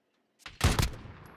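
Gunfire in a battle royale video game, a short burst of two or three close, loud shots right after near silence, ending in a brief decaying tail.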